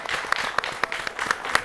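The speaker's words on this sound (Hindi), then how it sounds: "क्या बात है, जोरदार तालियां" Audience applause at a women farmers' awards show, a dense, steady patter of many hands clapping with sharp individual claps standing out, sustained loudly throughout.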